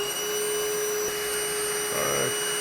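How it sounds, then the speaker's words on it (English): A Milwaukee shop vacuum hooked to a Worx 5-in-1 sander for dust extraction runs with a steady, close whine and airy rush throughout, its pitch shifting slightly near the end, with no talk. "We get some dust extraction. Perfect. Fits nicely with my Milwaukee vacuum."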